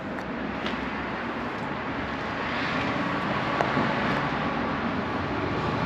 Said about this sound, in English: you probably hear the traffic in the background, so my apologies.